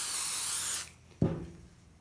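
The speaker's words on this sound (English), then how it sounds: "This is just adhesive spray here, specifically made for quilting." An aerosol can of quilting adhesive sprays in one steady hiss lasting under a second, close and fairly loud, then cuts off and is followed by a soft thump.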